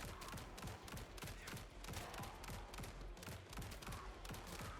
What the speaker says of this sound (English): these revolvers do a lot of damage